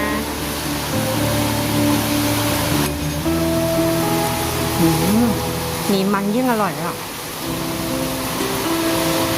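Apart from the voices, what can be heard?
heavy rain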